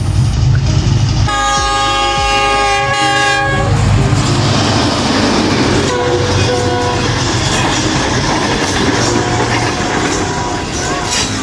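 A Pakistan Railway Green Line train passes close by at a rural village station, its horn sounding in sustained harmonic blasts at the start, then a loud steady rumble and rolling wheel clatter.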